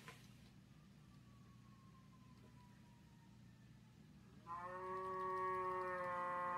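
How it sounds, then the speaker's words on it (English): Recorded cow on a farm, a low drawn-out moo that swells loud and sustained after a quiet stretch with a faint falling tone, and no talking. "That one was a cow"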